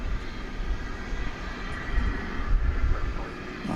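Airliner noise at Dallas/Fort Worth International Airport on a Tuesday night, a steady broadband engine roar at moderate distance holding evenly throughout, with no talk over it.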